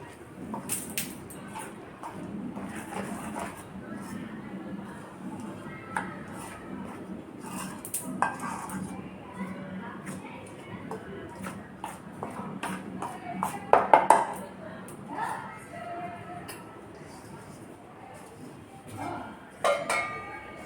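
Wheat flour being stirred with hot oil in a bowl for crispy chakri dough, with soft scraping and a few sharp clinks of a spoon against the bowl, close and moderately loud.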